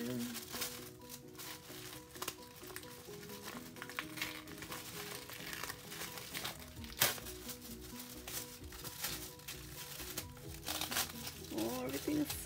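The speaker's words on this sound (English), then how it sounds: "oh, I don't want to rip this tissue." Tissue paper crinkles and rustles continuously as a birthday gift is carefully unwrapped, close and steady, with someone talking throughout.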